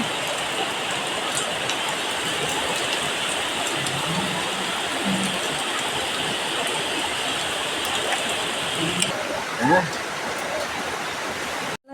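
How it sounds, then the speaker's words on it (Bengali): Heavy rain pours down outside a village home, a constant broadband hiss and wash heard from indoors, with a brief faint voice and small kitchen sounds surfacing near the end. "বাইরে মুসলধারায় একসাথে বৃষ্টি হচ্ছে"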